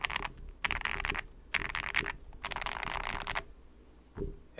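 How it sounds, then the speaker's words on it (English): A mechanical keyboard on a Tiger Lite build with PBT keycaps is typed on in quick clattering bursts of keystrokes, separated by short pauses, close and fairly quiet. "And typing."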